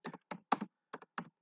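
Computer keyboard typing git commands, in five short bursts of keystrokes separated by brief pauses, close and fairly quiet.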